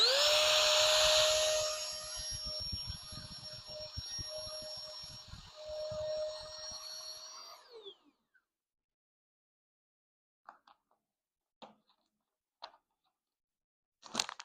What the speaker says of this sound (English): we're just going to take our valve off here, put our vacuum on there, and we're just going to press that button